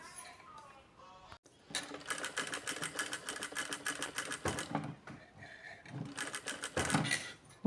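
A sewing machine stitching a curve in fabric runs in rapid bursts of clattering needle strokes, pausing briefly between runs as the fabric is turned, close and clear with no talk.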